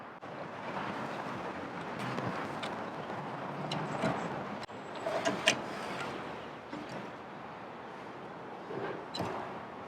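A new blower motor fan in a Coleman Mach 8 RV air conditioner spins with a broad, steady whooshing rush and faint rattles and clicks, moderately loud and close throughout.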